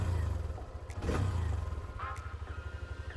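A Hero Xtreme 125R 125cc motorcycle engine runs close to the microphone with a steady low idle throb and a brief rise in revs, heard alone.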